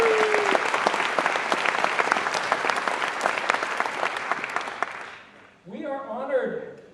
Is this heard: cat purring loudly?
no